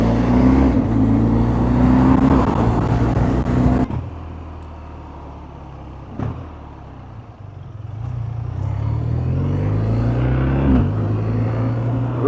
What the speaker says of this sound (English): hearing those pops and the bangs with every shift, upshift and downshift